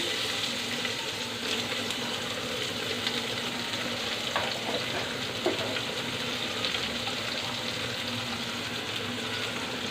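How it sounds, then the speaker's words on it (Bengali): Chopped onions sizzle steadily in hot oil in a pan while a Bengali rui fish curry with pointed gourd and potato is being cooked, a dense, even frying hiss with a few soft stirring clicks and no voices. "ভুনা করব এখন আমি এখানে পেঁয়াজ দিয়ে দিলাম"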